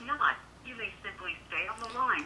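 An automated voice prompt plays over speakerphone on a Motorola Droid Pro during phone activation, with a few spoken phrases and short pauses, thin and somewhat distant.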